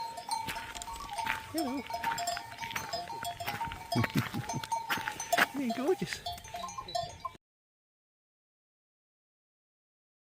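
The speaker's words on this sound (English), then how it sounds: "That's the character goats I got. A lovely sound with their bells." Goats bleat several times close by while their bells jingle and clank steadily, with a person speaking briefly over them outdoors on the Camino de Santiago in Spain.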